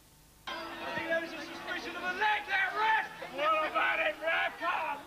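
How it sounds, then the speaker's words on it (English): An unhappy crowd murmurs and calls out at a cycle speedway race, a swelling babble of many voices that rises and falls in waves after a sudden start. "certainly the crowd not happy about it"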